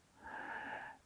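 A long, steady exhaled breath, letting go during a body-awareness exercise, with a soft airy rasp that swells and fades over about a second, heard alone and close.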